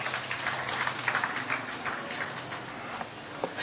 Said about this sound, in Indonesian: Tepuk tangan untuk monumen kita.